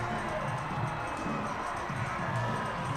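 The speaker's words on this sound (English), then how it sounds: "What a crowd here in Fargo, North Dakota" Baseball crowd at a Fargo, North Dakota game between the Firefighters and the Indianapolis Clowns, a steady distant roar of cheering voices holding at an even level throughout, with no single voice standing out.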